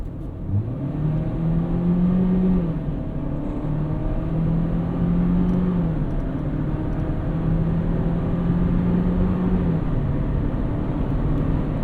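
A 2023 GMC Terrain AT4 with a 9-speed automatic accelerates hard up a highway on-ramp, engine drone rising in pitch through several upshifts under steady cabin and road noise, with no talking.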